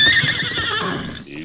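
A great horse named Silver neighs loudly and close at hand, one high whinny that trails off over about a second and a half, with faint hoof movement underneath.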